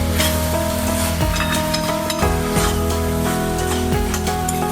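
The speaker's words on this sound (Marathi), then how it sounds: "आता मिक्स करून घेते मी" Cabbage and chana dal vegetable dish stirred in a hot pan, a continuous loud sizzle with repeated scraping strokes of the spoon against the pan, close up with no talking.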